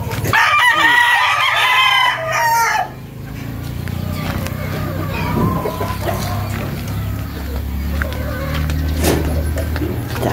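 Domestic chickens in a backyard flock, a rooster crowing loudly and close by while hens cluck steadily over a low background hum, with brief faint voices.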